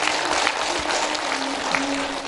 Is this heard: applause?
yes